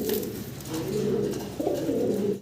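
Pigeons coo steadily in a low, warbling murmur, several birds close by, continuous and moderately loud throughout.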